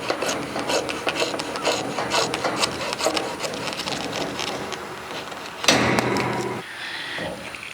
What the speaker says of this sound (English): This is liquid tight flex conduit. I've already measured off what I need, so I'll go ahead and cut it.